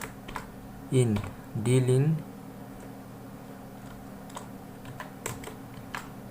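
Keys on a computer keyboard tapped while text is entered in an Excel sheet, with scattered, fairly faint clicks spread across several seconds; someone speaks briefly near the start, then soft typing continues under a low background hum.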